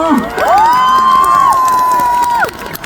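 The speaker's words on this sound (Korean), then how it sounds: "큰 박수 한 번만 주시겠어요?" A large outdoor concert crowd in Pohang cheers and shouts loudly for about two seconds, with one sustained high whoop or scream riding over the roar, before it fades.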